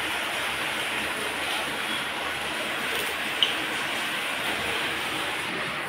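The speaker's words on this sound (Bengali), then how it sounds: "আজকে প্রচণ্ড বৃষ্টি করছে, যে কালকে রাত থেকে বৃষ্টি আরম্ভ হয়েছে।" Heavy, continuous rain falls outside, a dense even hiss that holds steady throughout without a break.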